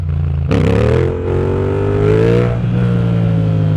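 2025 Yamaha MT-07 motorcycle revving during wheelie practice, a sudden loud burst of throttle that holds a rising, buzzing engine note, eases briefly, then swells again before settling to a steady rumble, close by.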